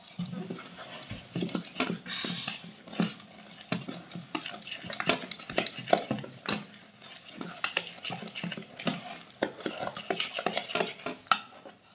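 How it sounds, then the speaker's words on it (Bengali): Flour and milk batter whisked in a bowl for patishapta pitha, with repeated uneven clinks and scrapes of a utensil against the bowl, close up, while people talk quietly in between. "তাহলে এটা আস্তে আস্তে গুলে ব্যাটারটা রেডি করো"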